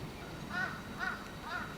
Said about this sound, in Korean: 낯선 이방인이 반가울 리 없는 까마귀.